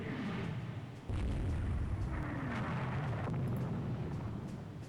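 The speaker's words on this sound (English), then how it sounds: "Trading shots with a gun line of battleships, which I don't like." Battleship gunfire in the naval strategy game Rule The Waves 2: low, rumbling booms roll out at a subdued level, one after another, over a dull background.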